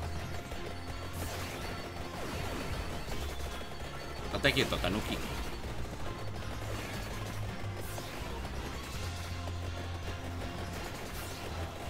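Vampire Survivors gameplay is a continuous clatter of in-game explosions and hit sounds, with one louder crash about a third of the way through, all under a person speaking casually.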